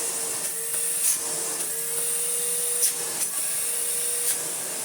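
A 1990s Hitachi CV7100 cylinder vacuum cleaner runs with a steady high whine and low hum, with a few brief surges in pitch as it is moved.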